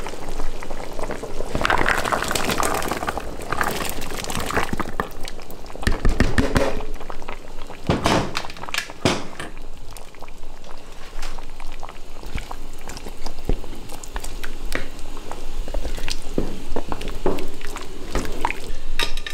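A pot of Jamaican red peas soup with beef and peas simmers on the stove, giving a steady bubbling boil with occasional clinks and splashes from the pot, heard close with no talking.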